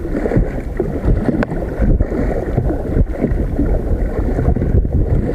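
A canoe paddles upstream on the Red Deer River, with continuous rushing water and wind buffeting the microphone. Faint irregular paddle strokes and splashes sit inside a loud, dense wash of noise.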